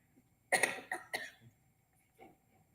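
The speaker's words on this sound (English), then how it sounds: "Excuse the cough, a little sinus thing." Three sharp coughs in quick succession, close and fairly loud, from a minister with a sinus condition during a church service, followed by a softer fourth cough after a short pause.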